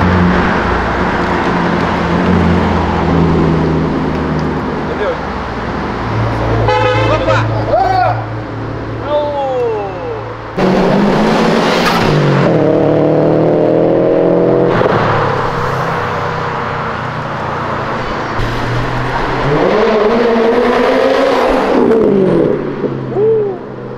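Cars pass one after another, revving and downshifting with rising and falling engine pitches and loud blips, while a voice talks over the passing traffic.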